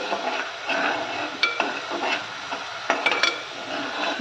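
Masala paste for Hyderabadi boti ka salan, a goat intestine curry, fries in oil with a steady close sizzle, punctuated by a few sharp clinks of a spoon against the pan, no voices.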